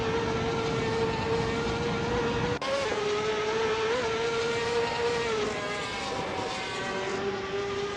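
Ferrari 355 Challenge race cars in a racing video game, engines screaming at a steady high pitch, with a brief gear-shift dip partway through before the revs climb again and hold, loud and continuous.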